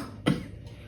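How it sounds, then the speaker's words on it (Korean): A single short cough from a man during a Korean church sermon on Matthew 5, sharp and close, with no speech around it. "제가 기침을 조금 해가지고 죄송합니다."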